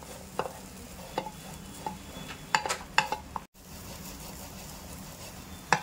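A spoon stirring and scraping kabuli chana with peri peri masala in a pan, giving scattered light clinks and scrapes over a soft, steady sizzle.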